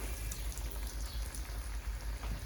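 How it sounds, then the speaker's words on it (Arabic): Breaded chicken drumsticks fry in a pan of hot oil, a dense, continuous, close sizzle with a fine crackling texture that stays steady throughout and has no talking over it. "معايا كده طاسه فيها زيت سخنه، تمام، هنزل بقى كده على طول بالدبابيس بتاعتي"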